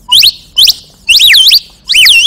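At an elementary-level children's storytelling competition in Majalengka, Indonesia, a performer's voice imitates forest birds and animals: four loud bursts of shrill, sweeping chirps and whistles, rising and falling in quick warbles, with short pauses between them.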